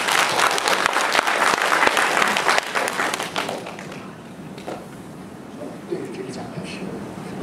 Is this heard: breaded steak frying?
no